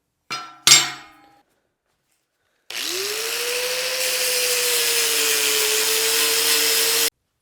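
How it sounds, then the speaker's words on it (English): A couple of sharp metallic clanks, a pause, then an angle grinder spins up and grinds scale off a forge-welded steel billet in a loud, steady, high-pitched whine that runs for several seconds before cutting off. "Let's go ahead and grind off the scale, cut into it, and see if it successfully forge welded."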